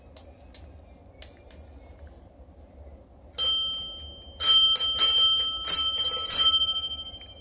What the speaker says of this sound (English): Where's your bell?